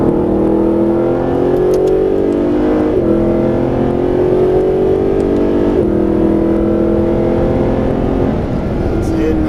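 A Mercedes SLS AMG engine pulls hard on throttle, a loud continuous roar climbing steadily through the gears with brief dips at each shift, filling the cabin close up.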